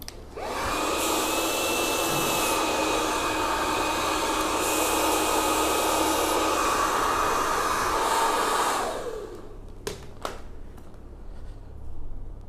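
A hair dryer blow-drying hair runs loud and close in a steady whooshing roar for about nine seconds, then switches off, leaving a quiet room with a few soft handling clicks.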